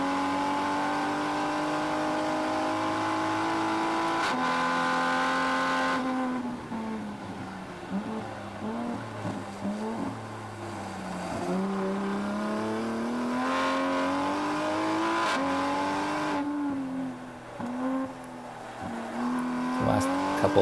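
A Toyota Supra race car on a time attack lap, heard from inside as a loud, steady engine drone whose pitch rises through the gears and dips under braking into corners, with continuous road and wind noise.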